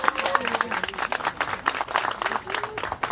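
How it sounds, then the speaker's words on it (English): An audience at a book signing claps, a dense patter of many hands that runs the whole short stretch at moderate loudness, with a few voices mixed in. "let's give her a round of applause."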